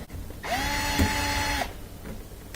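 A cordless power driver whirs steadily for about a second, backing a screw out of a Frigidaire dishwasher air gap, close and loud, followed by a faint clatter.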